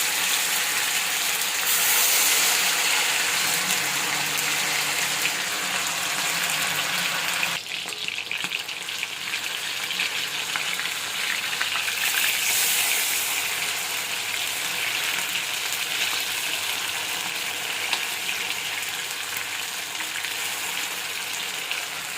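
Chicken pieces frying in a little oil give a steady, close, broadband sizzle with crackling spits throughout, a brief dip partway as it settles, and no talking.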